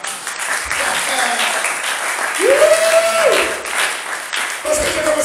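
A church congregation applauds throughout, a steady wash of clapping and cheering for the Lord with a speaking voice and a rising vocal tone over it.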